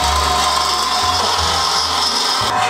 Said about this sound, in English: It's meant to drill through kegs.